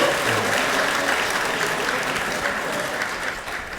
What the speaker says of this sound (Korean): 큰 박수 올려주십시오.